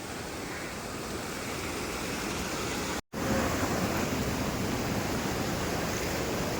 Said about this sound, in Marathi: पाणी पुलावरनं चाललंय